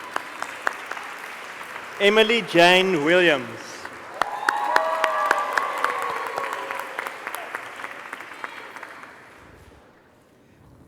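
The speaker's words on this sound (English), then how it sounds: "You can never clap enough." A graduation ceremony audience applauds at length, a broad, even wash of clapping that builds after a name is announced and fades gradually toward the end. An announcer's voice sits over it, with a few cheers mixed in early.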